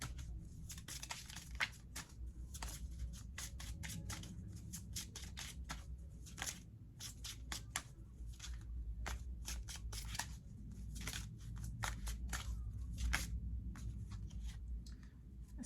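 A tarot truth deck of cards is shuffled by hand, with rapid, crisp riffling and slapping bursts repeating close up and fairly quiet, alone with no talk.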